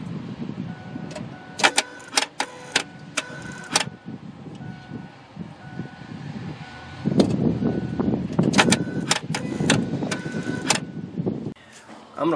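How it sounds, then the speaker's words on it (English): Faulty electronic throttle body on a Ford F-150/F-250 5.4L 3V engine cycling erratically at key-on, with repeated sharp clicks and ticks in uneven bursts, close up, followed by a denser buzzing stretch and someone talking. "it'll continually cycle back and forth, all erratic"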